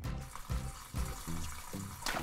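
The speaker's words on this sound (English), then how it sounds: "Now I'm going to carefully put water in my tank so I can put my fish inside." Water is poured into an aquarium tank in a few repeated splashing, gurgling pulses, fairly faint and close, with no talking.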